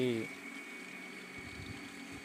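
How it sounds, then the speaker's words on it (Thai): A water pump draws water into a drip irrigation line on a farm, making a quiet, steady mechanical hum with a faint watery hiss after a brief opening sound. "เปิดปั๊มดูดน้ำไปทางนะฮะ"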